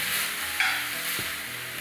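Coriander leaves frying in a pan for a chutney, a steady broadband sizzle with a soft stirring scrape partway through, close and continuous with no talking.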